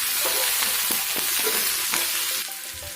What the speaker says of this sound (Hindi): प्याज को हमें तब तक भूनना है जब तक ये थोड़ी सॉफ्ट नहीं हो जाती